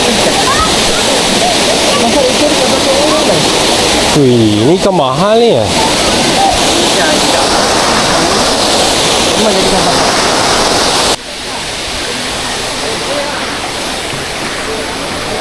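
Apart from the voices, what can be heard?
river water flowing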